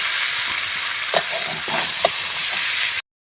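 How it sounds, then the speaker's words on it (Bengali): Tomato and ginger-garlic paste frying in oil for a taro and potato curry, giving a steady hiss with a few spatula scrapes, close by, before the sound cuts off abruptly. "এবারে আদা রসুন বাটা দিয়ে দিলাম, দিয়ে এবারে ভালো করে কষাতে হবে।"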